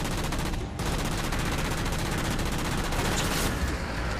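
Gunfire in the game Halo 4, a dense continuous fusillade of rapid automatic shots, loud and close, running unbroken with only a brief dip.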